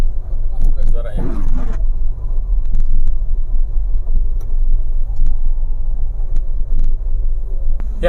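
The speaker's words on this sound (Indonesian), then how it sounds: "suara ini muncul kemungkinan besar dari bearing yang ada di gardan" A car drivetrain hums, apparently from a worn differential bearing: a steady low drone that runs for about eight seconds under road rumble and wind buffeting, with a brief voice-like burst early on.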